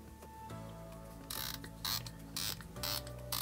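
A multi-turn elevation turret on an Arken Optics SH4 6-24x50 Gen II rifle scope turning with a run of mechanical clicks and ratcheting detents, close and fairly loud, in several quick bursts with brief pauses between.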